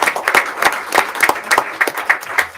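Audience at a school board meeting claps in a steady, fairly loud run of individual hand claps with a light crowd wash underneath.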